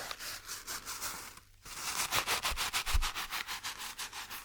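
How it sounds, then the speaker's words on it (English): Sheet of kitchen roll paper towel rustled and rubbed close to the microphone, with soft repeated crinkling strokes and a brief pause midway. "It's not tissue. It's like a kitchen roll kind of."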